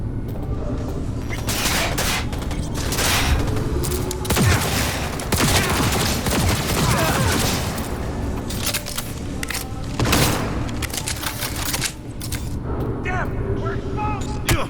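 Rapid gunfire and bursts during a firefight in the video game Cyberpunk 2077, loud and dense throughout, mixed with booms and shouting voices over the action.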